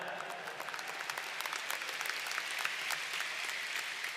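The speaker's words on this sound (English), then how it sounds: "You can give yourselves a round of applause for that." University graduates at a baccalaureate ceremony give a sustained round of applause, dense clapping from a large crowd that stays steady and moderately distant throughout.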